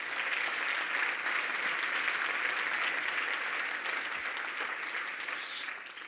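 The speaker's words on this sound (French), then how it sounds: "Une belle main d'applaudissement pour Alain." An audience at an economic nationalism speech event in Quebec applauds, a dense, sustained wash of clapping that holds steady before tapering off slightly at the end.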